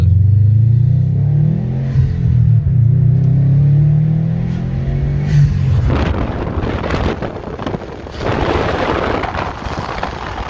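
A 2018 Subaru WRX STI with an Invidia R400 exhaust, Cobb SF intake and Cobb Accessport tune revs loudly nearby, its engine note climbing through rising revs before breaking into a rough, crackling, booming roar.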